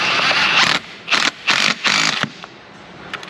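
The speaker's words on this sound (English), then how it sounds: "wrench coming in on the back side here. Impact coming in on the front side." An impact wrench tightens steering gear bolts on the subframe of a 2007 Chevrolet Monte Carlo SS 5.3, with four loud close rattling bursts separated by short pauses and a faint shop hum between them.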